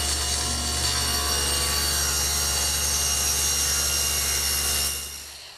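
A table saw rips through a wood panel for an oak bathroom vanity, a steady loud whine of blade and motor held for about five seconds before winding down, with no talking.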